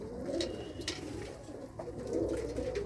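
Pigeons in a loft coo softly and repeatedly, low throaty calls overlapping at moderate distance with a few faint chirps and rustles, no talking.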